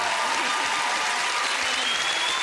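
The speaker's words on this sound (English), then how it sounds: "Let's give them a big round of applause." A studio audience at a Family Fortunes television game show claps in steady, dense applause, a continuous bright wash of many hands with no break across the whole stretch.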